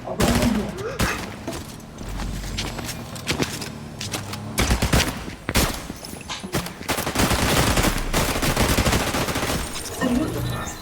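Loud, rapid Fortnite gunfire fills the scene in dense bursts and scattered single shots, with a voice talking at times over the shooting.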